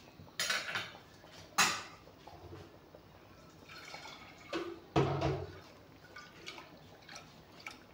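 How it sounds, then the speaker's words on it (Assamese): Water is poured into a pressure cooker in a quiet kitchen, faint close splashes and trickles mixed with a few metallic clanks of the pot and utensils, with no talking. "অলপমান কুকাৰটোতে পানী লৈ ইয়াতে দি দিম অলপমান পানী।"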